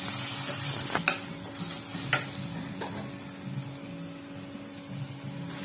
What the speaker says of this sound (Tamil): சோம்புத்தூள் கொஞ்சம் குழம்பு மசாலா தூள் போட்டு நல்லா வதக்கிக்கோங்க